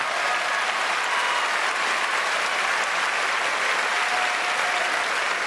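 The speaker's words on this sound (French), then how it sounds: "applaudissez, bravo" A gala comedy-show audience applauds in a steady, dense wash of clapping that holds evenly throughout without voices standing out.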